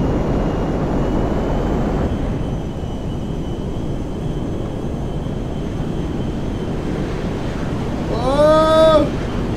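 A jet aircraft roaring from behind in the GTA V video game, a loud continuous rushing drone that holds steady throughout, with a brief whistling game sound near the end.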